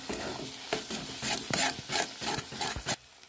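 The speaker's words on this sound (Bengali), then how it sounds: "ভালো করে নেড়ে নেব মশলার সাথে ধনে পাতাটা।" A spice paste with chopped coriander leaves is stirred in a pan for doi khichuri, producing a series of rhythmic scraping strokes about twice a second over a soft sizzle, close and fairly quiet.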